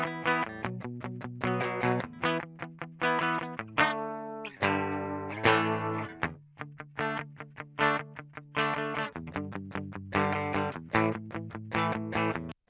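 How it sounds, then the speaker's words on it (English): Clean electric guitar run through an amp and cabinet simulation with a free Rat-style distortion pedal switched off, playing chords and riffs with sustained ringing notes, steady and fairly loud with no voice. "So it's a pretty clean guitar sound."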